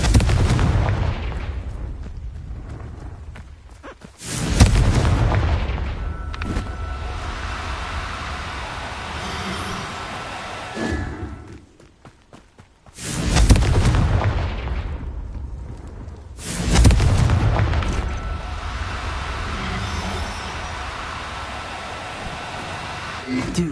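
Fiery Confringo spell blasts in Hogwarts Legacy, heavy booming explosions that recur every few seconds, each swelling and then decaying into a rumbling tail amid game combat noise.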